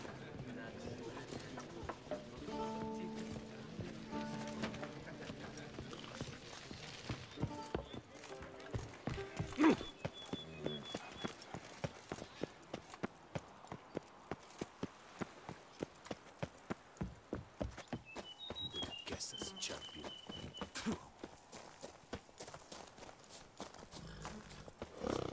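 Hooves of the horse Roach clip-clop in a quickening rhythm in The Witcher video game, picking up into a steady gallop over game music, with a voice speaking near the start.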